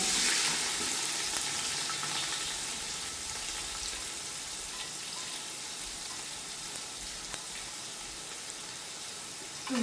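Onions frying in hot oil for egg biryani give a steady broadband sizzle that runs the full length, loudest at the start and settling into an even, close crackle with no talking.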